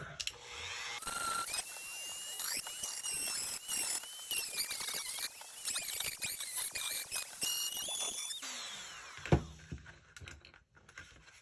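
A Dremel rotary tool cuts into the plastic shell of a Nerf Fortnite 6-SH revolver blaster, a close, high-pitched whine with gritty grinding bursts that rise and fall for several seconds, then stop, followed by a sharp knock.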